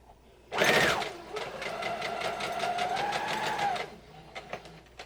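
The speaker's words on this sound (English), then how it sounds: "And we're just going to sew that together." A sewing machine stitches two pieces of fabric together in one continuous run of about three seconds, its rapid motor whir loud and close, followed by a few faint clicks.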